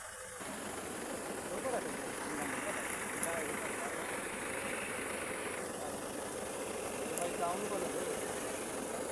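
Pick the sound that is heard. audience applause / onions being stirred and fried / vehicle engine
vehicle engine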